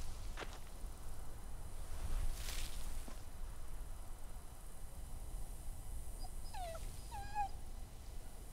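Dog whimpering and yipping in The Walking Dead video game, a few short high whines near the end after scattered soft sounds, fairly faint over a low background with no talk.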